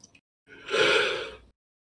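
A single long, breathy yawn with a faint voiced groan in the middle, rising and then fading out over about a second, close and fairly quiet.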